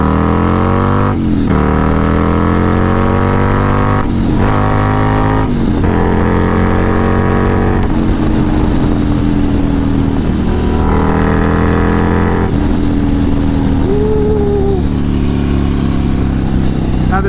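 A supercharged Harley-Davidson Road Glide engine revs up loudly and close, its pitch climbing through several gears with brief dips at each shift, while a rider's voice comes through over the engine.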